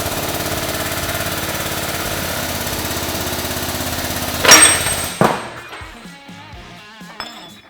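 A press grinds steadily against a bearing on a portal gear shaft, a loud continuous drone that ends in a sharp metallic pop as the bearing releases, followed by scattered clinks of parts being moved.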